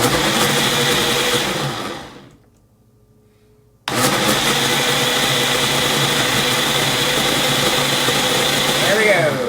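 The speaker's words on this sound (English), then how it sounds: "Okay, blender is now on." A kitchen blender purees Reaper peppers with a loud, close, whirring motor roar that cuts out briefly, then kicks back in and runs steadily.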